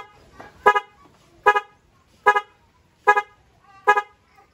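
A two-way car alarm sounds through a dual horn, giving five short, loud honking chirps at an even pace of about one every 0.8 seconds, with quiet gaps between.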